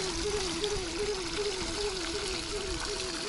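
Spring water from a fountain at Bica Santa in Cercal do Alentejo, Portugal, trickles and splashes in a steady, close, continuous flow.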